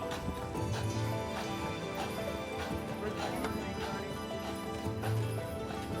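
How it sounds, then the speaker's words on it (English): Horse-drawn carriage hooves clip-clop steadily along a Charleston city street, a continuous rhythmic clatter close by over a busy background, with faint voices mixed in. "you are going to see horse-drawn carriages going around the city"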